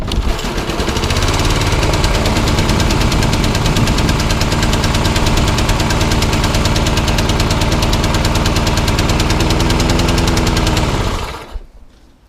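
A lawnmower engine with a suspected faulty throttle cable runs steadily and loudly after starting, a close, rapid mechanical chugging that holds for about eleven seconds before cutting out and fading.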